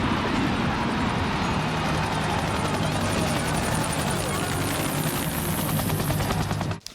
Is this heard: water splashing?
no